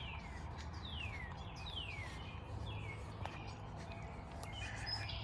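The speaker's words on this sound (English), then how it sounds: "Listen to the birds." Several birds chirp and whistle in descending and rising calls along a wooded canal trail, over a steady low outdoor rumble, fairly faint and continuous.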